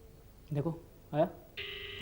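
A telephone used to place a call: two short spoken bursts, then a steady electronic line tone starts and continues unbroken to the end.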